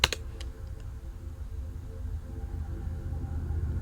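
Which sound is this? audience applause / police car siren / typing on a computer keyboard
typing on a computer keyboard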